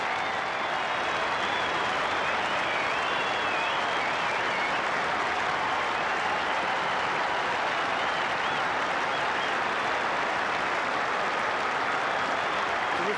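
A stadium crowd at a 1995 AFL Fremantle versus Sydney football match rising in a standing ovation: dense, loud, continuous applause and clapping that hold steady throughout.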